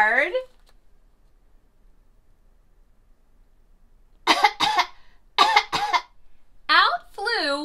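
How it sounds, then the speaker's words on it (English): An elderly woman character in a children's animated story coughs hard several times in quick bursts after a long silence, followed by a short spoken phrase. "she coughed so hard"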